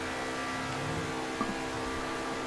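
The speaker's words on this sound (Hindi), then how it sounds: "तुम्हें आवाज़ सुनाता हूँ मैं इस गाड़ी की, तुम ब्यूटीफुल साउंड सुनने के लिए तैयार हो जाओ।" Steady car engine hum with a mid-pitched whir while driving on a road, constant and moderately loud throughout, with a brief bump partway.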